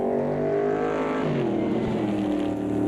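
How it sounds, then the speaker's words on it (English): A BMW race car in a sim racing game roars past, its loud engine note sliding down in pitch as it goes by, with a steady drone of other cars behind it. "And Samurai goes past in the BMW"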